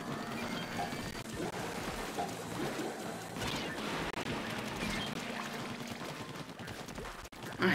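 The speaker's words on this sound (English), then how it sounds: "Look at all the rain." Heavy rain falls at a bay, a dense steady hiss of drops and splashes close by that fills the whole stretch without pause, ending with a brief knock.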